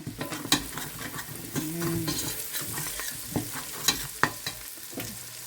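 Garlic browns in a pan for chicken arroz caldo, a light sizzle broken by sharp scrapes and clinks of a spatula stirring against the pan.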